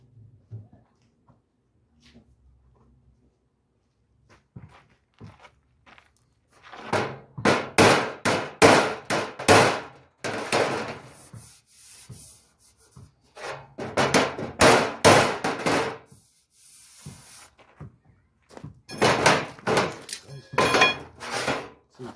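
Repeated hammer blows strike a bent 1951 Chevy truck bed side panel in irregular bursts, loud and close, with a quieter stretch between rounds of banging.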